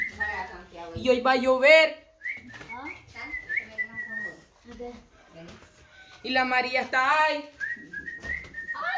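A man whistles in bursts of bright melodic tones alternating with Spanish conversation, with the whistled phrases clear and close, interleaved with people talking.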